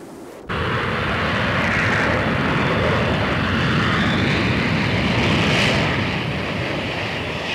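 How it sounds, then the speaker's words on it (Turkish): Passenger airplane arriving at Atatürk Airport, its engines producing a loud, steady broadband roar that starts abruptly and holds near throughout, swelling slightly toward the end, with no talk over it. "334 sefer sayılı uçağımız Atatürk Havalimanı'na gelmiş bulunmaktadır."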